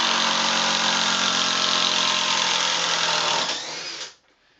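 Cordless impact driver driving a screw into wood and back out, a loud, continuous harsh hammering whir that drops briefly before stopping abruptly, close up.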